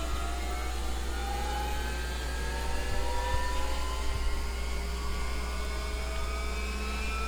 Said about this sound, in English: So engine 1 is coming on.